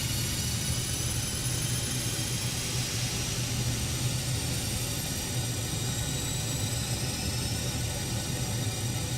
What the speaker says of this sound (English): So now what it's doing, it's charging the boosters.